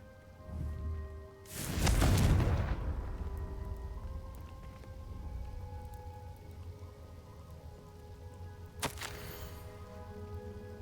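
A Confringo fire spell bursts in Hogwarts Legacy: a loud, broad whooshing blast swells early and fades into a lingering rumble, with a sharp crack later on, heard alone without talk.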